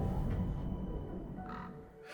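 Crows cawing in the video game Soul Reaver 2, a few harsh calls over a low rumbling ambient background, moderately distant and alone without talk.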